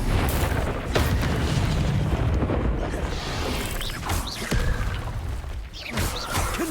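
Spell blasts in the video game Hogwarts Legacy, including the Confringo fiery spell, land as repeated heavy booms and crashes over a dense rumbling combat background, loud and close.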